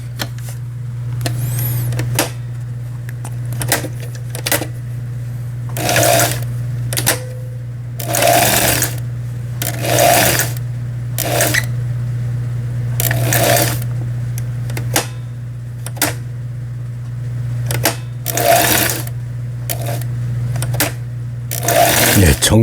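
A Janome sewing machine stitches a straight seam in repeated short bursts, its steady motor hum underneath and rapid needle clatter rising with each run, close and fairly loud.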